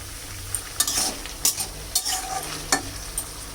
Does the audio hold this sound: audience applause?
no